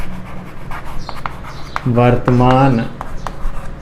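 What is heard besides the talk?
writing on a board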